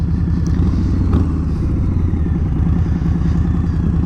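A Harley-Davidson motorcycle with a Milwaukee 107 engine rumbles loud and close with a deep, steady, throbbing low-end beat and no voices over it.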